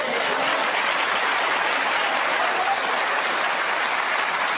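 Loud, steady applause from a snooker crowd fills the hall without a break, a dense wash of clapping during the 2021 World Championship final between Mark Selby and Shaun Murphy.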